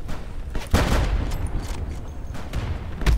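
Carbine 98 rifle fire in the video game Insurgency, with a loud sharp shot near the start and bursts of gunfire and blasts continuing throughout under a steady battle din.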